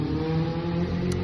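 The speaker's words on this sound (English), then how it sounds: "gotta let the motorcycle pass." A motorcycle passes by outdoors, a steady close engine drone with a rising whir throughout, loud and continuous with no voices.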